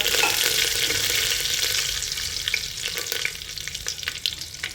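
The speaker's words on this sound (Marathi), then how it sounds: "इथे मोहरी टाकून घ्यायची आहे, जिरे टाकायचे आहे, कढीपत्ता" Mustard seeds, cumin and curry leaves crackle in hot oil for a Maharashtrian matki dish, a loud, dense, steady sizzle with scattered pops and light stirring throughout.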